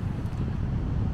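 Strong stormy wind at the seashore buffets the microphone in a steady low roar, with rumbling gusts and no pauses.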